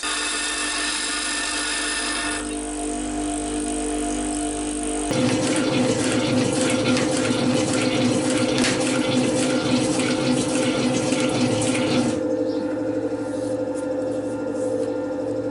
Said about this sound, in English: So let's take this tool out and give it a little grind.